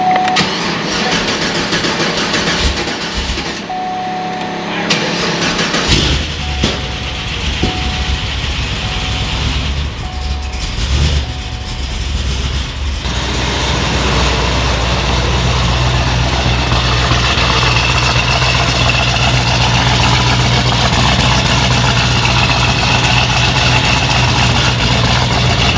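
A Cadillac CTS-V V8 fires up after repair work and settles into a loud, steady idle with a slightly uneven beat, as if down a cylinder, following a few seconds of quieter cranking.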